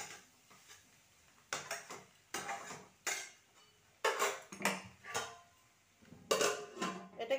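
Cumin powder and ginger paste stirred in a pan: intermittent bursts of scraping and utensil clatter against the cookware, several separate strokes with short quiet gaps between them, close by.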